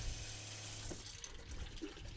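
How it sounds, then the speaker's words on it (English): A sink tap runs steadily in an off-grid setup, water fed through a hot water heater and draining into a bucket, giving a continuous soft wash of flowing water close by with no talk. "So glad I have running water out here"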